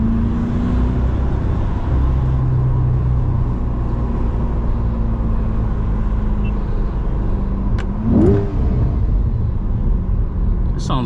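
A 2024 C8 Corvette accelerates on a highway, its exhaust giving a loud, continuous low rumble and burble over road noise for the whole stretch.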